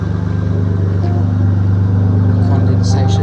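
A Nissan Skyline with a 20E engine idles steadily close by, a low, even rumble with a faint rhythmic pulse, while someone talks over it.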